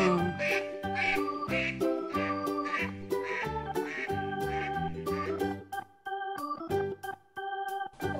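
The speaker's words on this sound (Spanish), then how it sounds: "¡Un patito!" A toy duck from a children's farm animal toy set quacks in a quick rhythmic series of bright, nasal honks, fairly close and clear, with a light jingling tinkle alongside and no talking.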